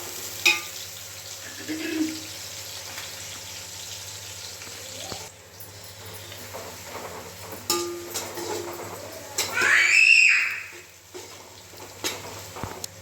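Onions frying for chicken biryani sizzle steadily up close, with occasional clinks and stirring scrapes and a brief louder hiss near the end.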